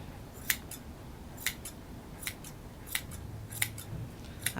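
Scissors snip steadily through a Bouvier dog's neck fur during grooming, with about seven crisp, fairly faint cuts spaced roughly a second apart over a soft background.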